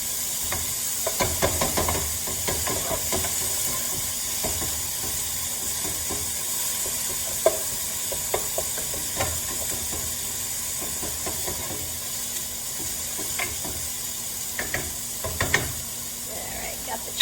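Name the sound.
chickpeas sizzling in pan with toasting ingredients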